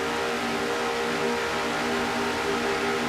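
A stock car engine screams at high revs in a racing video game, a steady, sustained whine at close range with no let-up and no talk over it.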